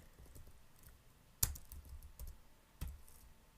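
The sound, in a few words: typing code on a computer keyboard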